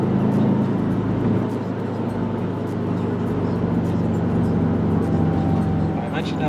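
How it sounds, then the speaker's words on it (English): Subaru WRX exhaust gives a steady, low, continuous rumble at cruising, close and fairly loud throughout. "I mentioned I like this exhaust."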